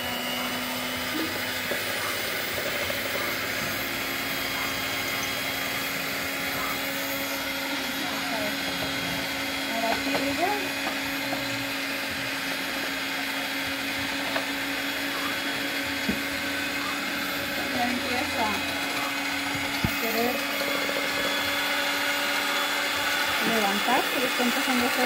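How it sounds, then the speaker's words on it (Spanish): A blender runs continuously for a long stretch, whipping up foam with a steady loud motor whine and hum, while a person talks intermittently over it. "vamos a encender la blender"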